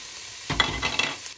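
Chopped tomato is tipped into a pot of softened, sizzling onion and stirred for a Moroccan-style vegetable soup, giving a brief burst of frying hiss with a few scraping spoon strokes close by.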